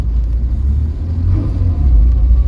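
A barn-find Vauxhall Viva driving after carburettor work, its engine giving a loud, steady low rumble that swells slightly as it moves off, with no talk.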